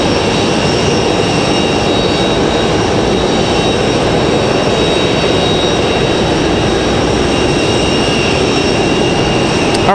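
A Delta Boeing 737-900 jet airliner's engines roar loudly and continuously as it taxis toward the runway at Raleigh-Durham International Airport. The dense, steady whine holds unbroken throughout, close and alone without speech.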